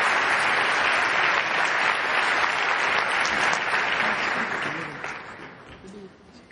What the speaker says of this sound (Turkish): Kocaman bir alkış lütfen.